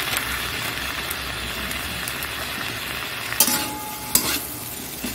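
Ginger-garlic paste and ground cumin frying with soft potatoes in a pan, a steady close sizzle under repeated stirring, with two sharp scraping knocks of the spoon near the end.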